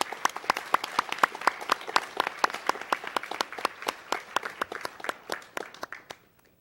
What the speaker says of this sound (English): Let's give this group of students another round of applause.